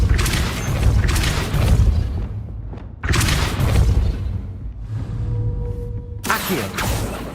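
Depulso spell cast in the Hogwarts Legacy video game, a series of loud, heavy blasts and booming whooshes in several bursts, separated by brief quieter gaps with faint tonal effects.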